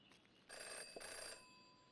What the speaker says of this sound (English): Mysterious phone booth phone ringing.